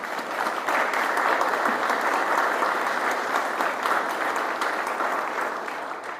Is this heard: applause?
yes